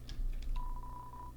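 A landline telephone in the video game Deltarune gives a few short beeps followed by a long steady dial tone, clear over a low background hum.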